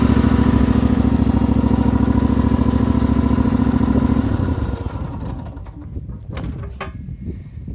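Homemade wheel loader engine with a finicky carburetor revving hard and loud up close with a steady throbbing drone, then dropping back toward a rougher, quieter idle with clattering.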